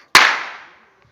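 A toy fart bomb bag bursts with a single sharp pop, then a hissing rush of escaping air fades over about half a second.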